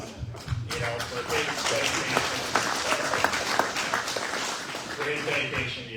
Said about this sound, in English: I'm giving him a round of applause